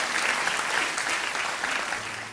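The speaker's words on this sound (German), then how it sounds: "Sie brauchen nicht zu klatschen." An audience at a German comedy stage show applauds, a dense sustained patter of many hands clapping close and fairly loud, easing slightly toward the end.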